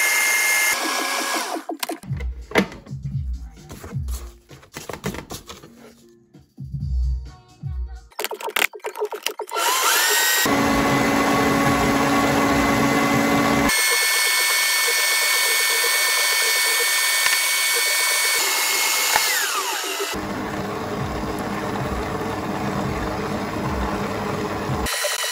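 An electric mixer creams butter and sugar for a Gateaux Basque, whirring in long steady motor runs with brief pauses and speed changes, loud and close after some clattering kitchen handling at the start.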